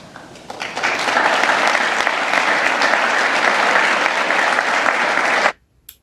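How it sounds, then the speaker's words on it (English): An audience at a women's courage awards ceremony claps steadily and loudly for several seconds, a dense even wash of applause that cuts off abruptly near the end. "this is going to be a whole lot of like intermittent clapping"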